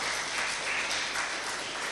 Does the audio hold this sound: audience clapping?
yes